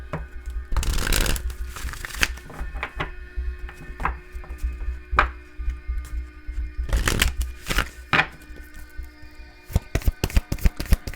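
Moonology oracle cards shuffled by hand in several bursts of riffling and flicking, separated by quieter pauses and ending in rapid clicking taps, close up with no talking.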